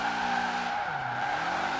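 A Porsche 356 RSR sliding in Forza Horizon, a sustained tonal tire squeal over a steady engine tone, close and loud with no talking.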